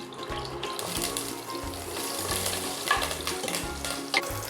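Green chillies sizzling and frying in a pan for ghee rice, a steady close crackle with rhythmic stirring scrapes throughout.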